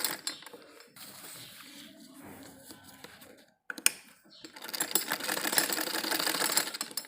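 A sewing machine runs in stitching bursts as elastic is sewn onto a palazzo waistband, rapid mechanical chatter interrupted by pauses and a sharp click before a longer, louder run.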